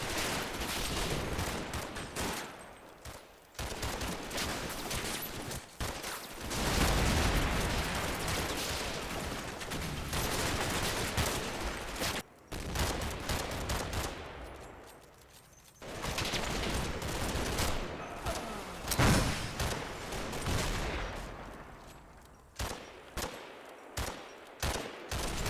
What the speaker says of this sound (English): The Piat team repeatedly fire at the Puma,